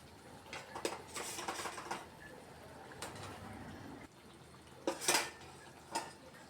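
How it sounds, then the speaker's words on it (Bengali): Fried raw banana pieces go into a pan of spiced gravy for a yogurt-based banana curry, giving a few clinks of a spoon and utensil against the pan in two clusters over soft background noise. "এবারে এর মধ্যে ভেজে রাখা কাঁচা কলাগুলো দিয়ে দিচ্ছি।"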